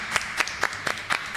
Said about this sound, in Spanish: Un aplauso grande para Carlos Heller.